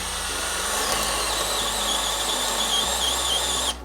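A 12V hammer drill drives a 1.25 inch Irwin Speedbor bit into wood, a loud, close, whining motor with a straining squeal that wavers in pitch and stops suddenly at the end.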